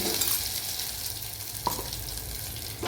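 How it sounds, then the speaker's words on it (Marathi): A spoonful of ground spice paste sautés in ghee in a tempering for yogurt kadhi, giving a close, continuous sizzle with light stirring scrapes and one small clink. "याचं तुपावरती चांगलं परतून घ्यायचं आहे"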